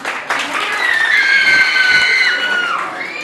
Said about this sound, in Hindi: सबके लिए जोरदार तालियां हो जाएं